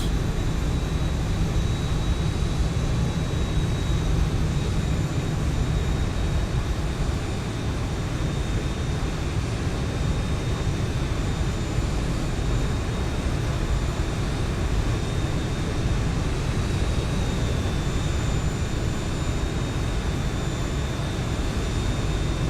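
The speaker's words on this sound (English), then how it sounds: "while we're taxiing down here, we'll do some surface checks" A small aircraft taxis on a runway with a loud, constant engine and propeller drone that holds steady throughout, heard close up with no talking.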